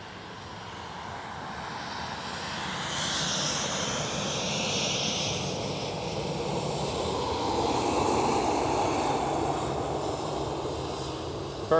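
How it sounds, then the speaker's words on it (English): A KLM Boeing 737 at Amsterdam Schiphol gives a steady, broad jet roar that swells slowly and holds at moderate loudness throughout, with wind across the microphone and no talking. "First one up for us is a KLM 737"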